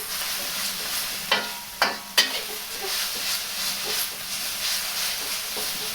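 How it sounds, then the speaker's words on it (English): Beef lo mein noodles are stir-fried in a pan over fire, giving a close, steady hissing sizzle with three sharp tossing clatters in quick succession and no talking. "And just move it around and let the fire heat the lo mein noodles."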